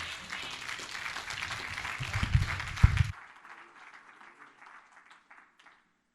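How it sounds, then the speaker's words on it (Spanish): A church congregation applauds as pastor Arnoldo Granados is welcomed, loud dense clapping for about three seconds that cuts off abruptly, leaving faint room murmur trailing behind. "Recibámoslo con un fuerte aplauso"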